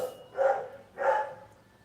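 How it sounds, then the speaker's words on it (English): Two separate barks come from dogs somewhere off at a middle distance, each one loud and full, with a short gap between them and no voices. "You hear the dogs."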